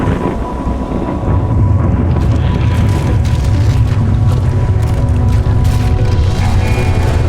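An explosive charge set off for avalanche control in backcountry mountain terrain: after a quieter start, a loud, deep boom rolls into a long, sustained rumble that fills the rest of the clip, with no voices.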